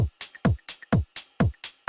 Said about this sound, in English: This is a sort of ride loop